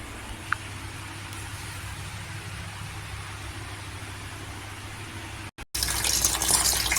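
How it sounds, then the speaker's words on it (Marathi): Fresh tomatoes washed under running tap water in a home kitchen: a steady, even rush of flowing water fills the whole stretch, briefly cut off near the end before resuming. "इथे स्वच्छ एक ते दोन पाण्याने धुवून घ्यायचे"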